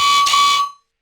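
A growl bass from a bass house track made in Ableton answers the main synth with a single harsh, buzzy held note lasting under a second, fading quickly into silence, loud and alone.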